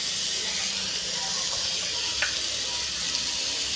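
Washed vadas dropped into hot oil on a gas flame fry with a dense, steady hissing sizzle, close and continuous, with faint brief clinks now and then.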